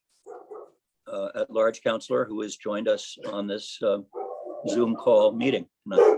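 Dogs bark in a home during an evening city council budget and finance meeting held over Zoom, with a coyote running through the yard. The barks are mixed under a speaker's continuous talk.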